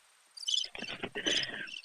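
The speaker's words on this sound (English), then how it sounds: "Oh, crickets." Crickets chirp in quick, high, bright trills, loud and close, in a few bursts over the second or so, inserted as a comedic sound effect with no talk over it.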